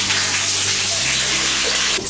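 Water runs steadily from a seashell-shaped sink fixture set in a hollowed-out rock basin in a jungle bathroom, a close, loud, continuous hiss with no pauses.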